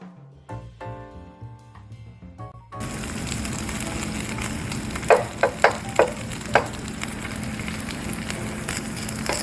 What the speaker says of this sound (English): I'm going to start by spooning the mixture into the pan.